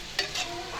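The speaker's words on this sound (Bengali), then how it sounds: "মাটন হচ্ছে, পেঁয়াজ ভাজা হচ্ছে।" Mutton and onions fry in a home kitchen pan, a soft sizzle with a couple of quick stirring scrapes in a brief, fairly quiet moment.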